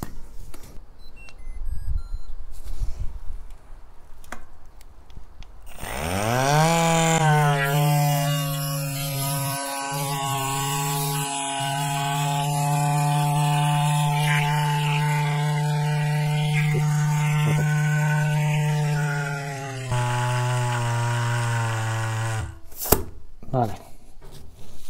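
A Cyclami electric tire inflator runs with a steady, loud motor drone and buzz that starts up, holds for about fourteen seconds, then shifts pitch and cuts off, after some handling noise.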